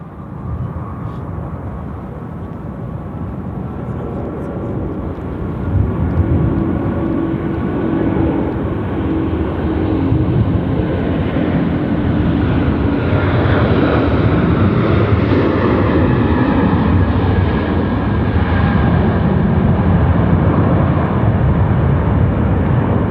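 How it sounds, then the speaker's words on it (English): Qantas airliner landing on runway 34 left at Sydney Airport at night, a loud, sustained engine roar that builds and swells over the whole stretch, with no voices over it. "Runway 34 left, clear to land. Here comes the Super Q."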